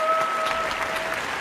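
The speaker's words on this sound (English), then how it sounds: "Give it a round of applause for our very own John Dutcher sharing his artwork" Audience at a talent show applauding, a dense, even spread of clapping held at a steady level through a brief moment.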